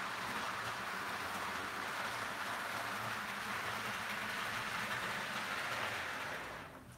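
A model train locomotive runs steadily on a layout, giving a continuous even rumble and whir at moderate level that fades at the very end, with no voices over it.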